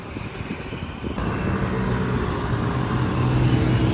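Heavy road traffic at a busy intersection in Bacoor, Cavite, a steady broadband roar of passing cars and engines, loud and continuous, swelling slightly after the first second, with no talk.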